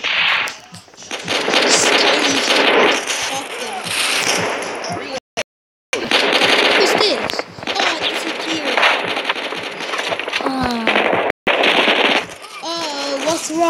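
Rapid bursts of video game gunfire fill the clip, loud and nearly continuous with brief gaps, mixed with explosions and game effects while players talk over it.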